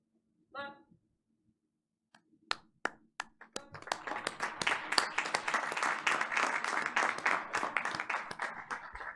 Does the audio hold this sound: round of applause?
yes